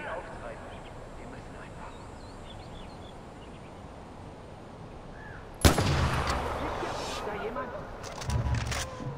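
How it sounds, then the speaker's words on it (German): A single gunshot in the video game Far Cry 4 cracks out sharply and loudly after several seconds of quiet ambient outdoor sound with faint birds, followed by ringing reverberation and further game noise. "Der erste Schuss muss sitzen."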